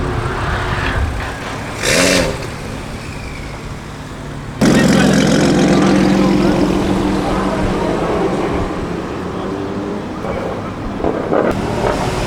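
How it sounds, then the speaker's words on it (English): A line of cars pulls away from a car meet as rain starts, engines rumbling and revving in a continuous loud wash that swells partway through. "You see the convoy of cars coming out"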